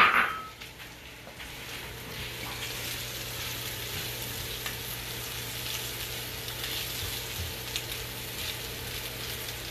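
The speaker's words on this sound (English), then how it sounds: "Get the mushrooms going," Mushrooms sauté for a gravy in a pan, giving a soft, steady sizzle with faint occasional clinks, fairly quiet and heard alone after a brief louder touch at the start.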